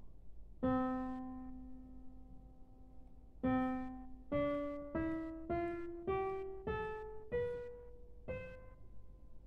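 Soft piano notes ring out one by one, a held low note first, then a slow rising sequence of single tones, each decaying gently in a quiet room.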